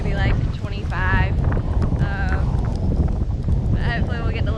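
Strong wind buffets the microphone in a constant roar on the beach at North Myrtle Beach as a storm rolls in, with intermittent voices speaking over the gusts.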